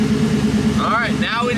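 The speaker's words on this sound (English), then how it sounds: "Just relearn everything and just have the car idling." A twin-turbo LS-swapped Mustang running Holley Terminator X engine management idles steadily just after starting, a low continuous rumble close by, while someone talks over it.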